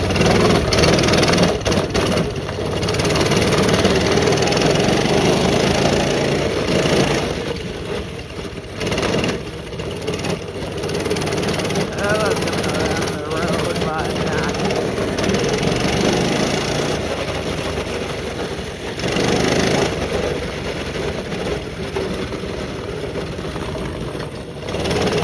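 A mini bike engine runs continuously, close and loud, with a rough steady drone that rises and dips as the throttle changes during riding and briefly drops lower around the middle.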